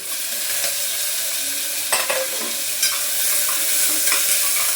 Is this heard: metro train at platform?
no